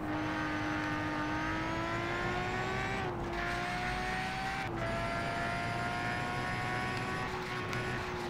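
Car engine racing in Colin McRae: DiRT 2 on PSP, an SUV at high speed: a steady, droning engine tone that climbs slowly, dips briefly on two gear changes, then holds, with road noise underneath and no talk.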